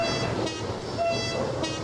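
A sustained two-tone train horn in a Roblox train game sounds over a continuous rolling rail noise, fairly loud and steady throughout.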